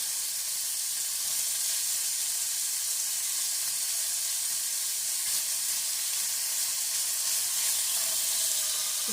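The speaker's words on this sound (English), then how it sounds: "You see, sizzle, sizzle." Steak fries in a pan with a steady, bright sizzling hiss that holds constant throughout, close and undisturbed by talk.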